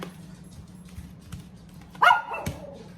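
Dogs bark in a kitchen, starting with faint distant yips and then one louder sharp bark and a second bark near the end, over a low background hum.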